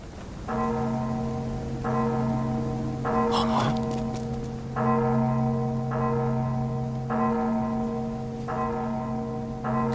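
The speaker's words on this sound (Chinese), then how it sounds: "是备战警钟" A war alarm bell rings out loudly and repeatedly in an animated fantasy scene, with evenly spaced resonant strikes, each one sustaining its hum, and a brief sharp clatter between strokes.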